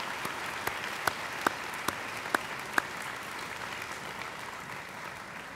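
Applause from the audience at the Millersville University 2014 winter commencement, heard as a distant, soft patter of many hands with a handful of sharper, nearer claps standing out early on.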